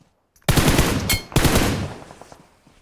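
Rapid automatic gunfire from the PUBG Mobile battle royale game, two loud close bursts about a second apart that fade away, with no talk over them.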